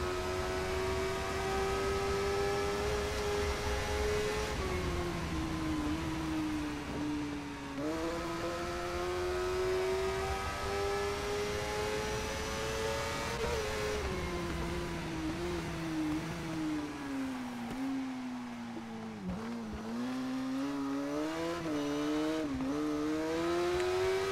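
Racing motorcycle in TT Isle of Man screams at high revs, pitch climbing through gears with quick short shifts and drops, loud and continuous with no talk.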